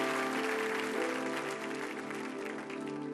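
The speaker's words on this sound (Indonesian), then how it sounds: "Berikan tepuk tangan yang meriah buat Tuhan kita yang mengasihi kita semua di rumah ini" A church congregation applauds steadily for a few seconds, a dense wash of clapping sitting over a sustained musical tone from the sanctuary.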